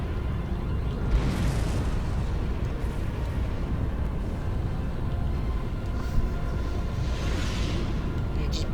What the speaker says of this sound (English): It just blew itself up.